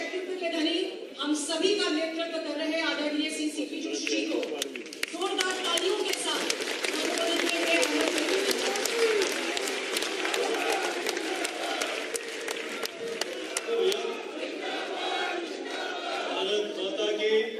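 A large crowd at a political rally in Jaipur, Rajasthan claps and cheers continuously, with sharp rapid claps thickening in the middle section while crowd voices and speech carry on throughout.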